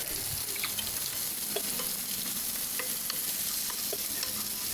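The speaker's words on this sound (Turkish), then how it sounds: "soğan ve et qovrulur" Onion, meat and sweet pepper fry in a pan for a summer dish, giving a steady, close sizzle punctuated by light stirring clicks and scrapes throughout.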